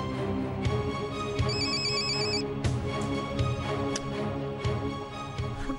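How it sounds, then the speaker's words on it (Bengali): A mobile phone rings with a repeating electronic ringtone melody, a few even cycles of tones over a quiet indoor background, with no voices. "লতু ফোন করছে, এখন ধরা যাবে না বুঝলি।"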